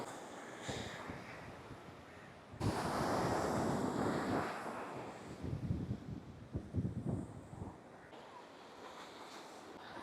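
Ocean surf rolls onto the sandy beach at Mirissa, Sri Lanka, with a loud rushing wave surge breaking midway, then receding wash, all buffeted by wind noise against the microphone.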